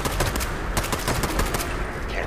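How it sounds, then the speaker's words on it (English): Rapid, dense gunfire in a video game, fired upward through a staircase at enemies on the floor above, sounding as loud, close bursts that continue without a break. "I shot up through the fucking staircase, bro"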